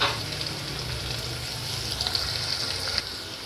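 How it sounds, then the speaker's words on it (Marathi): Soybean pulao ingredients fry in a pan toward golden brown, giving a steady close sizzle with small crackles and pops scattered through it, and no voice over it. "आणि तरी गोल्डन ब्राऊन होतोपर्यंत आपण ह्याला चांगलं फ्राय करून घेऊया"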